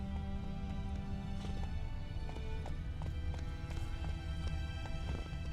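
Horse hooves from a video game clatter in a fast, even gallop, a close rhythmic clip-clop over a low rumbling bed, with an occasional brighter knock.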